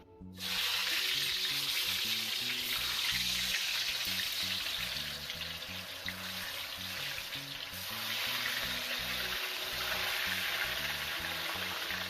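Steady loud sizzling of potatoes frying in hot oil, a dense crackling hiss that continues throughout with no voices.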